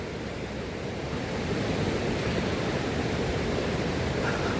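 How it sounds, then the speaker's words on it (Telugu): A river in Nepal rushes in a dense, unbroken roar, steady and fairly loud throughout, with no voices over it. "నది ఒకసారి చూడండి ఫ్రెండ్స్ ఎలా ప్రవహిస్తుందో ఈ నది"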